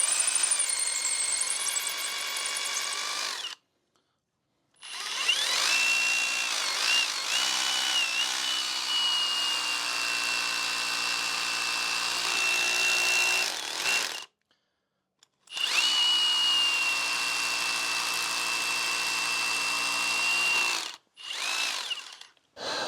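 Bauer 20v brushless 1-inch SDS rotary hammer drilling into a thin concrete pad with a 3/8 inch bit, loud close hammering whine in long runs separated by short silences.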